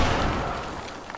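Grenade blasts in a video game: a short, loud, booming burst that decays quickly, with no talking.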